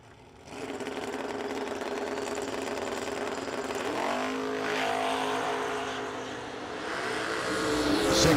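Twin-turbo drag race cars at the No Delay Nationals scream down the strip, a loud sustained engine roar that builds and shifts pitch midway, then swells louder toward the end, no talking.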